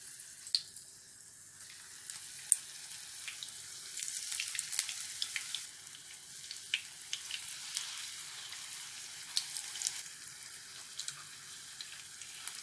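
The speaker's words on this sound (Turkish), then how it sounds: "Bu minik böreklerimizi ben yağda kızartıyorum" A soft, steady sizzle of small yufka börek pastries frying in hot oil in a pan, with small crackles and pops scattered throughout, quiet and continuous with no voices.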